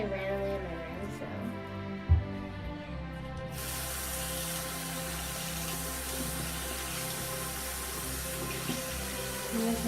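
Hot water gushes from a tap at a sink, a steady broadband rush that starts a few seconds in and runs unbroken, close and fairly loud, with faint handling sounds before it.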